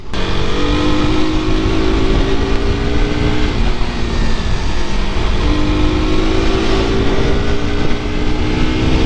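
A vehicle riding along a road gives a steady, loud rumble with constant wind and road noise throughout, no voices.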